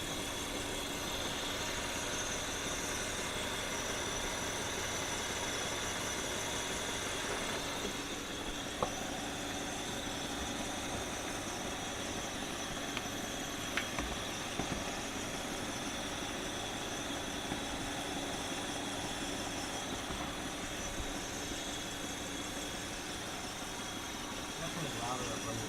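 A VW Beetle engine idles steadily with a droning exhaust note throughout, close and constant, while people talk over it.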